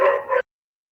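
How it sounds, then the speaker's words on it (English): A single dog bark rings out loud and close, then cuts off into silence. "There are dogs barking in my background."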